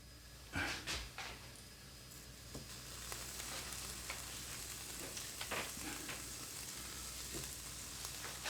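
Guinness burgers sizzle and crackle in an air fryer, a steady close frying hiss with a few sharper pops and taps near the start.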